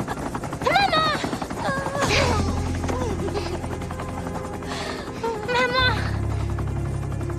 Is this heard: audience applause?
no